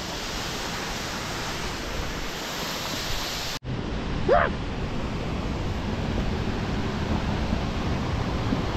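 A small waterfall of overflow water pours down beside a slippery path near a sand pond, making a steady broadband rush that is close and constant throughout, with a brief dropout partway and no voices.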